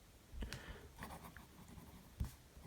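Fine steel nib of a Fountain Pen Revolution Muft fountain pen scratching across paper in short strokes, faint and close, with a slightly rough, feedback-laden scratch rather than a smooth glide.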